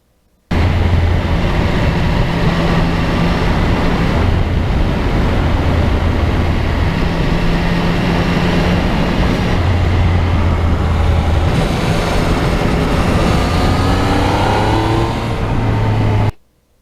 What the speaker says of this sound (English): And the sound of that triple as you back off the gas.